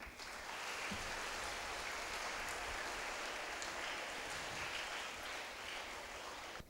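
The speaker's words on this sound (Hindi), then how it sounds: "आइए तालियों की गड़गड़ाहट के साथ उनका स्वागत करें।" An audience claps to welcome grade 2 students at a school Independence Day celebration, a steady dense roar of applause that holds for several seconds.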